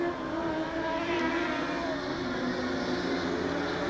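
TQ midget race cars lapping at Nelson Speedway make a steady, continuous engine drone throughout, a dense pack of motors close by with no clear single pass-by.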